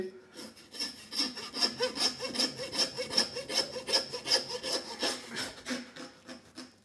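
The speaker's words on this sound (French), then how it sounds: "tu mets ta scie là et tu sépares ici le sternum en deux" A handsaw rasps back and forth through a lamb's sternum in quick, regular strokes, close and steady for several seconds.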